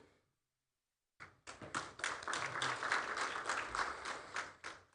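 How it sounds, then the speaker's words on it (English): Audience applause at an event for a national reading competition, breaking out after a short silence and building into steady, dense clapping from a fairly near crowd that carries on with no one talking over it. "A round of applause to Madame Sise."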